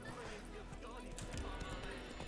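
Horse hooves pounding at a gallop in The Witcher 3 video game, a steady dense clatter running throughout under game sound and a talking voice.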